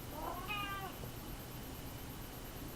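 Peach, a 22-year-old cat, lets out a single clear meow with a falling pitch. It comes early and close, over a steady background hiss, and quiet follows it.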